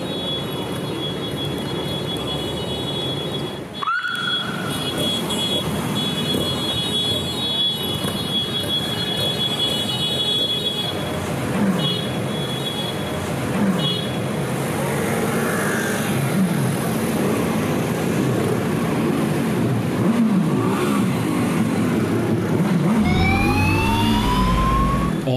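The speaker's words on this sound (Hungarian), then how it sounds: "A közös motorozás a nap fénypontja, amikor több tucat motor hangos dudálása tölti be a város utcáit." Dozens of motorcycles on a town street during a wine-route motorcycle rally, horns blaring over a steady roar of engines and traffic. The din is loud and continuous, with rising tones near the end and no voices.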